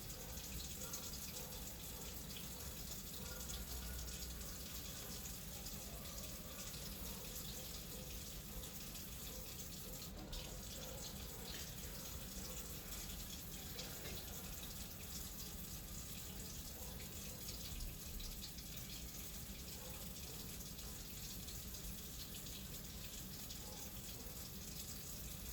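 A tap runs steadily into a sink during surgical hand scrubbing as arms are rinsed, the water a constant, soft hiss and splash with no break across the whole stretch.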